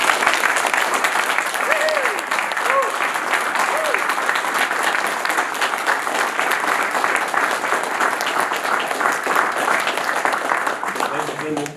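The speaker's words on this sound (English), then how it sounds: "Please join me in giving Master Sergeant Thomas a big round of applause for his dedication to service." An audience at a United States Air Force ceremony applauds Master Sergeant Thomas, a dense, steady round of clapping that holds for the whole stretch, with a few voices briefly audible early on.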